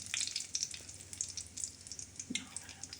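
A small tempering of asafoetida sautés in oil for uppu kadalai chutney, giving a faint, crackly sizzle with soft popping bursts. It is quiet and brief, with no speech.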